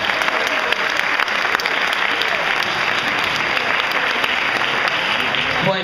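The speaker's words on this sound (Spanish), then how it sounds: "¡Un aplauso!" Dense, steady applause from an audience at a community arts event, a continuous wash of many hands clapping at even loudness throughout, with faint voices underneath.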